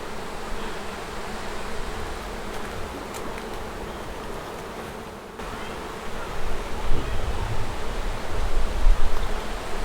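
Honey bees buzz in a dense, steady hum during a backyard hive inspection in North Port, Florida, close and continuous, swelling slightly toward the end, with no talk.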